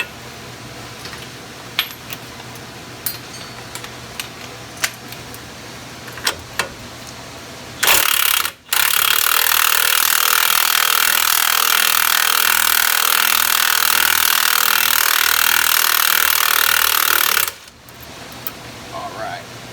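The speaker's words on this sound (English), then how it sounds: "We'll use our impact to break it loose if it will." An impact wrench with a swivel hammers loudly for about nine seconds, breaking loose a 21 mm nut on a Ford F-150 front suspension, preceded and followed by quieter clinks of tools in a garage.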